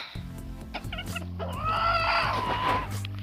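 Six-month-old chickens cluck and chatter close by while a one-year-old rooster lets out a drawn-out crow in the middle, with a steady low hum underneath.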